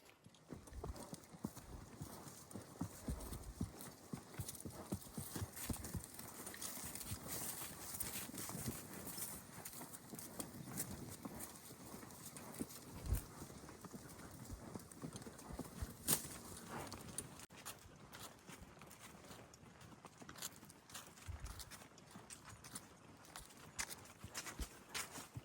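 Horses ridden across a fall cattle pasture clip-clop steadily at a walk, hoofbeats quiet and fairly close under light outdoor background noise.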